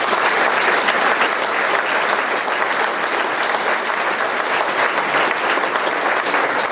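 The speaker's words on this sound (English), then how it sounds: "I'm sure you can give Evie a round of applause" A large audience at a charity concert with flute bands claps loudly and continuously, a dense, even wash of applause with no gaps and no speech.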